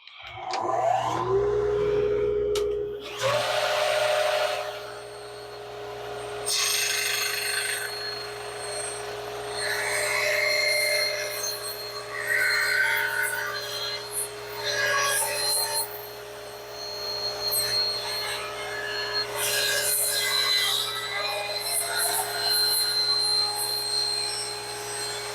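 A saw blade spins up with a steady whine and cuts through a wooden workpiece, with a continuous rasping, chattering bite over the motor's hum. It is close and fairly loud, with no talking.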